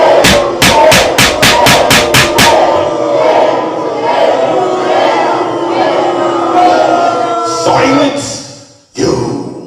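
A loud crowd booing sound effect, opening with a quick run of sharp rhythmic claps or bangs, then a sustained roar of many voices that drops out abruptly near the end before a short final burst.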